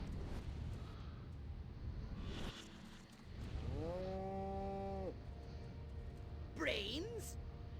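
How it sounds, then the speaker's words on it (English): Radioactive cow in a video game lets out a drawn-out, close moo with a falling pitch, surrounded by game sound effects and a brief whooshing sweep. "Scan a radioactive cow."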